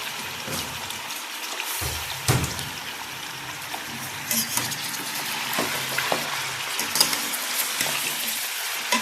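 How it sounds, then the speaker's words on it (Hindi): Two kilograms of mutton frying in hot oil for a spicy Pakistani mutton karahi: a loud, continuous sizzle with popping crackles and occasional knocks of stirring, close up and without speech. "ये मेरा ऑयल गर्म हो गया है। अब मैं इसके अंदर ये अपना मटन डाल देती हूँ।"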